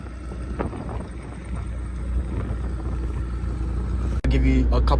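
A McLaren 765LT drops a gear and goes to full throttle, giving a loud, steady, deep engine roar with wind buffeting the microphone and a sharp break near the end before the roar resumes.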